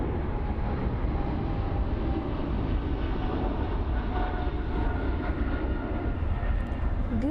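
Boeing 777F cargo jet taking off at Frankfurt Airport, a steady broad engine roar that holds loud and continuous throughout, with no voices over it.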